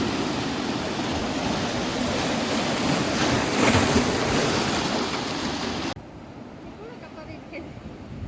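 Steady broadband rush of Arabian Sea surf washing onto a Konkan beach at Shrivardhan, with wind noise over the microphone; the roar drops abruptly to a quieter, calmer wash near the end.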